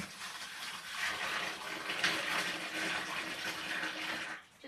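Water runs steadily into a bucket, topping it up to soak a sheep's fleece for washing; a continuous, fairly loud gushing pour close by that stops abruptly near the end.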